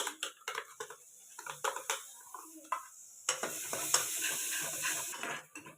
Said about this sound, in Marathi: एक 5-10 मिनटं जो आपलं खोबरं आणि सगळा मसाला आहे ना तो तेलामध्ये भाजू द्यायचा आहे.